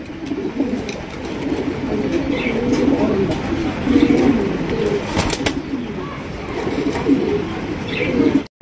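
Damascene pigeons coo steadily, low rolling calls repeating close by, with a few faint chirps and light background noise.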